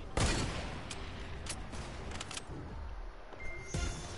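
Sniper fire in a PS4 game: a sharp near shot opens, followed by several scattered cracks and snaps over a busy, noisy game bed, with another sharp shot near the end.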